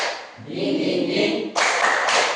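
Students in a classroom clap a short spirit-clap pattern together, a dense burst of hands followed by sharper group claps, fairly close and alone without talk.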